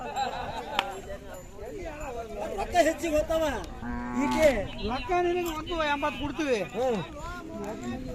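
A cow lows amid a busy crowd at a cattle fair where Khillar cows and bulls are traded, with many voices chattering around the animals at close range.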